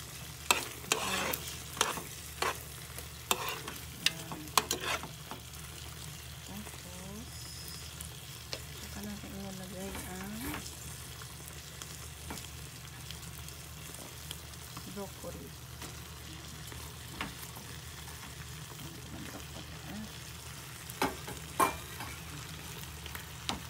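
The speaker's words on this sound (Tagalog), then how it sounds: "So, haluin lang natin." Chicken and broccoli fry in a pan, a steady soft sizzle under repeated scraping stirs and spatula clicks, close but quiet.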